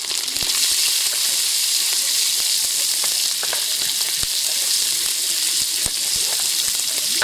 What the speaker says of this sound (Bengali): জিরাটা দিয়ে ভালো করে ভেজে নিচ্ছে মশলাটাকে।